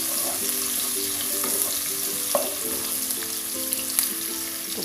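Onions fry with a steady crackling sizzle in a pan while a utensil stirs them, giving occasional clinks and scrapes over the hiss, with no talking.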